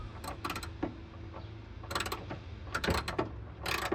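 Hand ratchet loosening the bolts on a Chevrolet Silverado during a turbo install, giving several quick bursts of rapid clicking with pauses between, close and moderately loud.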